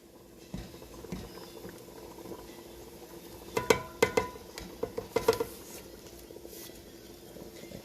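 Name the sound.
onion jam with brown sugar simmering in a pot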